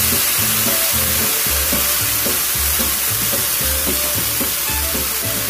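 Wood ear mushrooms and carrots stir-fried with a splash of water, a loud, dense steaming hiss that runs continuously and close, with rhythmic scraping and tossing of the spatula in the pan underneath.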